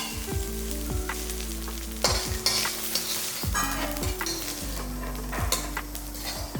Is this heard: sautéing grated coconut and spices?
yes